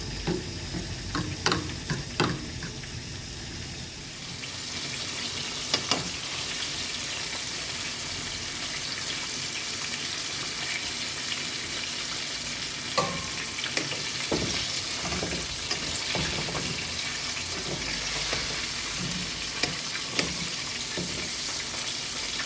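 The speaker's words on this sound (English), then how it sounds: "I reduce the heat on it, so it's going to be simmering for the next" Butter, garlic, ginger and thyme simmer in a pot with a steady close sizzle and bubbling, broken by occasional light clinks and scrapes of a utensil.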